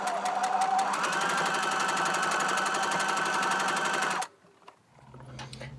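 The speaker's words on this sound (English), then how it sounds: "But I'm just going to sew along this edge now." Rapid, steady mechanical chatter of a sewing machine stitching pocket lines on a fabric sewing mat, close and continuous for about four seconds before stopping abruptly, followed by faint handling sounds.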